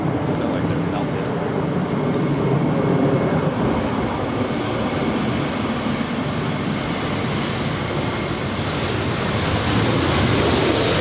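Southwest Boeing 737-700, flight 144 in from Las Vegas, landing at LAX: a loud, continuous jet roar holding steady for the whole stretch.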